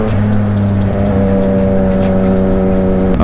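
A Yamaha MT-09 SP motorcycle accelerating hard with its quickshifter, heard as a loud, close, continuous engine drone holding steady tone, with a sharp shift-like break right at the end.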